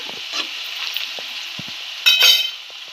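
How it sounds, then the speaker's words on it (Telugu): Sliced okra deep frying in plenty of oil, a dense continuous bubbling sizzle close by, with soft scattered clicks and a brief louder burst of spattering near the end, no voices. "ఇలా మంచిగా రెడ్ కలర్ వచ్చేంత వరకు ఫ్రై చేసుకోండి."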